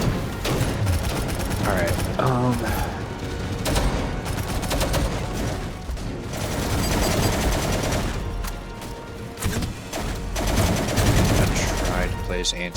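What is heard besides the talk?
turret gunfire in video game Angels Fall First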